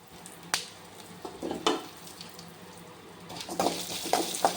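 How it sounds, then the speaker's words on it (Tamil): Coriander seeds, cumin, fennel and black pepper dry roasting in a pan, soft crackling and rustling with a few scraping stirs, faint and close. "இதை நல்லா வறுத்துக்கலாம்."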